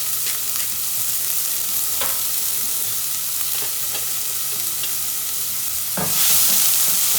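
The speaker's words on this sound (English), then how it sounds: "We're gonna let the onions go for probably about 8 minutes or so." Onions seasoned with salt and pepper fry in a pan with a loud, steady sizzle, marked by a few faint utensil taps and then a sharp scrape near the end as the hiss swells louder.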